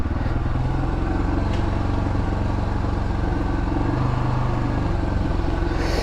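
A Honda dirt bike engine idles nearby with a rapid, steady putter and faint rattling, holding at an even level throughout with no voices.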